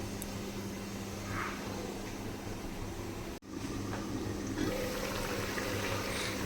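Potatoes simmer in a fish curry with ridge gourd under a lid, a steady low bubbling hiss that runs throughout, briefly cut by a sharp dip midway before the simmer resumes slightly louder.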